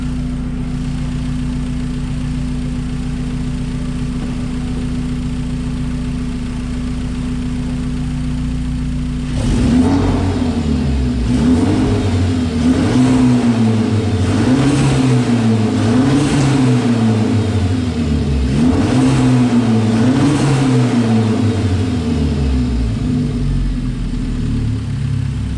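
A warmed-up Hyundai Genesis Coupe engine fitted with a Forge blow-off valve and throttle body spacer idles with a steady low hum, then revs repeatedly, pitch rising and falling in several throttle bursts, loud and close.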